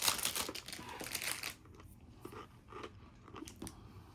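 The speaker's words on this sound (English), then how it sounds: "Sorry for the crunching," Pretzel rods being bitten and chewed close up, producing dense, loud crunching for about a second and a half, then quieter sporadic crunches as chewing continues.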